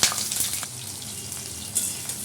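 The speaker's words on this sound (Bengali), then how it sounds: "যে চিংড়ি মাছগুলো আগে একটু ভেজে নিচ্ছি" Prawns fry in a pan with a steady, close hiss and crackle, with faint stirring sounds mixed in, short and continuous, with no voices.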